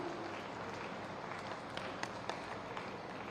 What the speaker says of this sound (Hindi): तालियां बजती रही स्वागत के इन पलों में।